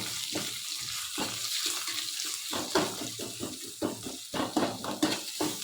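Capsicum and onion frying for capsicum fried rice, a steady close sizzle with repeated scraping and stirring clatters of a spatula in the pan, no talking.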